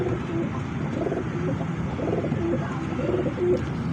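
A female fancy pigeon of the golden teddy kabootar type coos softly and repeatedly nearby. Its low rolling coos sit over a steady background hum, and no one speaks.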